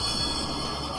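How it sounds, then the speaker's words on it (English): A tram runs along its rails in a brief, close, steady rolling rush with a faint metallic edge. No one speaks. "Tram."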